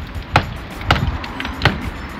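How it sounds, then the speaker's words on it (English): Bricks being knocked out of the back wall of a London house during an extension build, three sharp, evenly spaced thuds over roughly two seconds, close and fairly loud, with no speech. "is just knocking some of these out."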